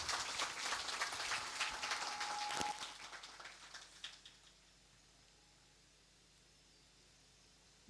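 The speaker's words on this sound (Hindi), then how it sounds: "ये पूरा रामायणम भवन गूंज उठना चाहिए तालियों से।" Applause from an audience in the Ramayanam Bhavan hall, a dense burst of clapping that fades out over a few seconds into quiet room tone.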